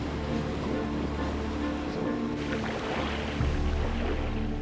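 Ocean waves at a rocky shore with big rocks, a continuous low surf wash mixed with wind rumble on the microphone and a heavier swell near the end.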